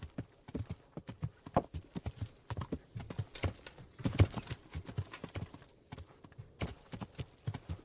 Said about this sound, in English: I gotta get rid of this horse.